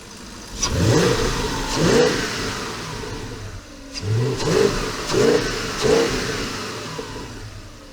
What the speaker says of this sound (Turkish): Hele bir gaza bas da şöyle bir motora bakak